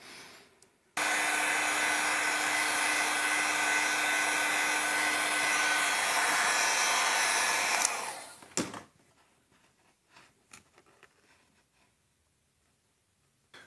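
Heat gun blowing hot air onto the glued screen of a Fire HD8 tablet, a steady loud whooshing roar lasting about seven seconds before cutting off, followed by faint handling noises.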